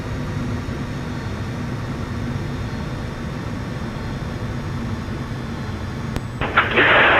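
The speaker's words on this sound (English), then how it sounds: "Alright, cleared to land, gear down, full flaps. Got the runway made, throttles are idle." An airliner in a flight simulator on final approach to landing with engines at idle, gear down and full flaps: a steady, broad engine and wind roar with a low hum, ending in a brief higher rush of noise.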